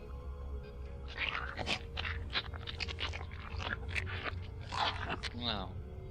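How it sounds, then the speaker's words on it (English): Disgusting wet clicking and chewing noises from a creature in the horror video game Hourglass, a busy irregular run of crunchy clicks and smacking bites that goes on for several seconds. "Hear this disgusting clicking sound again, accompanied by what seems to be"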